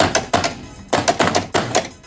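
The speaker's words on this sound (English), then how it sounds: "this top flipper is not quite hitting with very much gusto" An electromechanical pinball machine's flippers fire in quick paired clacks, with three bursts of sharp, close thunks. The upper flipper's bands are tied loosely, so it strikes weakly.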